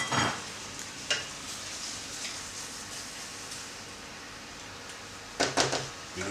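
Crushed canned tomatoes hit a hot pan, giving a soft, steady sizzle with a few louder bursts of stirring and clatter at the start, middle and end, and no one speaking.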